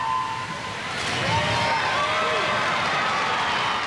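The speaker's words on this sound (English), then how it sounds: "Cheering like that usually comes at the end of the race." A swimming crowd roars and cheers at the start of a 200 metre freestyle race in 2004; a broad, sustained cheer swells and holds, with a voice talking over it.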